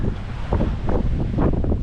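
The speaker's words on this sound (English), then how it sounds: "the apparent wind was gusting well over 23" Wind gusts hard across a sailboat on an unsettled Lake Michigan, loud buffeting rushes pulsing in quick surges over a continuous roar of wind and water.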